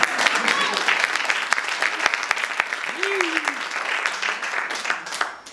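An audience at a talk applauds with sharp, close individual claps over a broad wash of clapping, with a brief voice cutting in midway.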